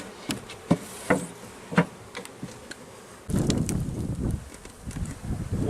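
Honeybees buzz around an open hive during a full inspection, a soft busy drone that swells louder partway through, with scattered knocks and clicks of frames being handled nearby.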